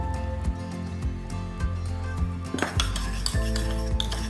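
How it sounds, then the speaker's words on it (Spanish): Corn salad dressed with a little olive oil is tossed in a bowl, with utensils clinking and scraping, denser toward the end, over a steady musical background. "Lo mezcla"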